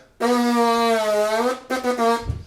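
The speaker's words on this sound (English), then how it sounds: "I blow raspberries because I play a brass instrument." A single sustained buzzing lip raspberry, strong and harmonic-rich, holds for over a second, then a shorter second burst follows after a brief pause.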